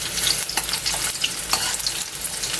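Ginger and garlic sizzle steadily in a hot pan while being stirred, frying at the start of a Filipino squid adobo, with a continuous crackle and occasional sharper pops, close and unaccompanied by talk.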